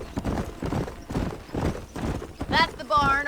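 Horses in the Western game Red Dead Redemption: steady clip-clop of hooves across the clip, followed by two sharp rising whinnies near the end, with voices talking over the hoofbeats throughout.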